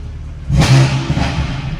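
BMW F80 M3 fitted with downpipes and a Bootmod3 tune, a single loud, close rev burst that rises sharply and settles into a rumble.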